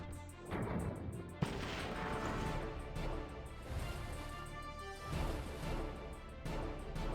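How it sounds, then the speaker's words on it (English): A torpedo hit and big attack in the video game Battle Nations: layered booming explosions and gunfire-like blasts over a steady game soundscape, with one sharp impact partway through and no talk. "Hit with a torpedo, as you do. There's the big attack."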